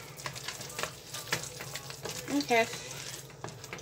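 Beans are stirred in a pan with a spoon, soft scraping and a light sizzle under a brief spoken word, close by.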